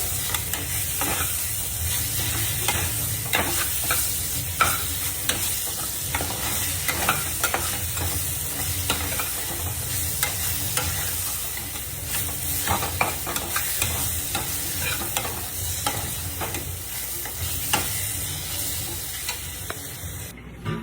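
Ground spice paste with curry leaves and turmeric fries in oil with a continuous crackling sizzle, punctuated by frequent spoon-against-pan stirring scrapes throughout; close and fairly loud, no speech.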